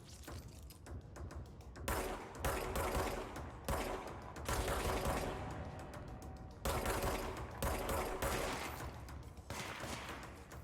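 Gunfire in the video game Control comes in repeated bursts of rapid shots separated by brief lulls, loud and close over a constant background din.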